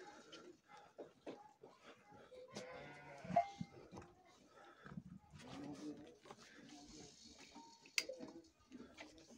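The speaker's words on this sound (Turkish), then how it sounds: "Kesin içeri yine koyun kuzulayıyor." Sheep in a village barn bleat repeatedly, with several wavering calls overlapping at close range and short pauses between them, over a quiet background.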